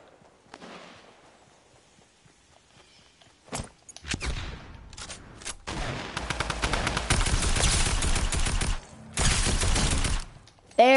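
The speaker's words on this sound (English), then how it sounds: "Heard gunshots towards the northwest." Rapid bursts of gunfire and single gunshots in a shooter video game, starting sparse and building into loud sustained volleys with brief pauses.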